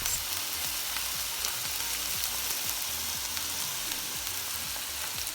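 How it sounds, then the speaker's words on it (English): Steady, dense sizzling of meat frying in a pan, with constant crackling and popping spitting throughout, loud and close. "loves the sound of when you put the meat on the pan, like, and it sizzles"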